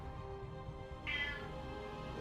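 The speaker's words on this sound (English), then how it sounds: "Oh, my cat being noisy again." A pet cat gives a single drawn-out meow midway, fairly near, over a low steady hum of room background.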